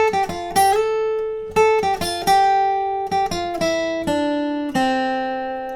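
Guitar plays the first line of a song's interlude riff, a steady sequence of plucked notes with slides and ringing sustain, close and solo without any talking.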